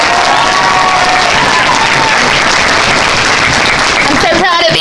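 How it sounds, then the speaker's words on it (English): Audience applause at a school Locks of Love hair donation event, a sustained wash of clapping from a crowd filling the room for several seconds, with a voice starting up near the end. "Let's give her a hand."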